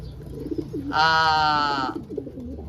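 A single loud, steady harmonic call rings out for about a second over softer, warbling coos from birds nearby.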